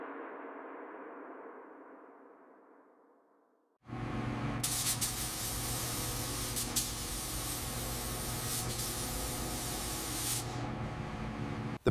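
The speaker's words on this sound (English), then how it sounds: "The paint is applied smoothly, restoring that deep factory red" Spray gun laying deep red paint onto a 1955 Chevrolet Tri-Five, a fading hiss giving way to a sudden loud, steady close spray that continues without a break.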